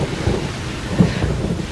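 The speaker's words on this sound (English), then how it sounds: "It's raining, man." Steady rain with low, rumbling thunder, a dull boom swelling briefly near the middle over the constant wash of rainfall.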